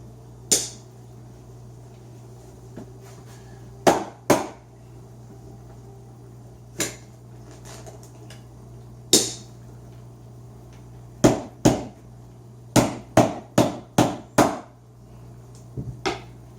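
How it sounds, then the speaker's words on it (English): Sharp percussive taps knocking out a water-damaged laminate floor board with a suction cup attached, a dozen or so distinct knocks, some in quick clusters, close and clear over a steady low hum. "I'm just gonna put the suction cup on there and tap it out."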